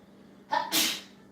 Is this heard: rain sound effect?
no